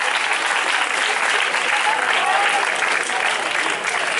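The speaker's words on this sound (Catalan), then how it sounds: "Un aplaudiment per a les tropes." A crowd at a 9 October commemoration applauds the troops of King James I in a steady, dense wash of clapping that stays loud and unbroken for the whole stretch, with no voices over it.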